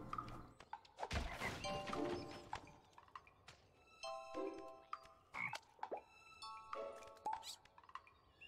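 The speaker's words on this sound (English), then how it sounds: "Frog eats thing." In the video game Toki Tori 2+, a frog eats something, giving soft croaks, thunks and plops among chirpy musical tones, quiet and scattered over several seconds without talk.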